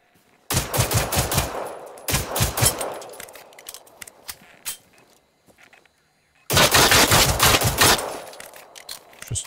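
Machine gun fire in the video game Generation Zero comes as loud, close automatic bursts, with several short volleys early, scattered single shots in between and a long sustained burst later, with no talk.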